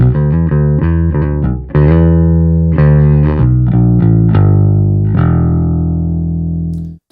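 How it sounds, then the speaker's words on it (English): An Epiphone Thunderbird Classic IV Pro electric bass with the neck pickup turned down plays a string of plucked notes and short phrases, slightly brighter and thinner in tone, closing on a held note that rings out and decays, with no talking. "So if I turn down the neck pickup, then it sounds like this."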